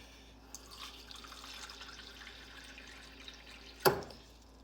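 Water poured from a cup into a container while repairing a faulty 1980 Sesame Street pop-up toy, a soft continuous trickle with a brief louder splash near the end, no talking.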